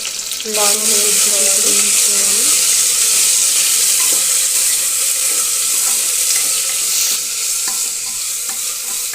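Onions, green chillies and curry leaves hit hot oil with a loud, dense, continuous sizzle that stays close and strong throughout, a brief clatter of stirring near the start and a faint voice underneath.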